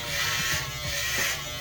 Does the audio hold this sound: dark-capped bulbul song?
no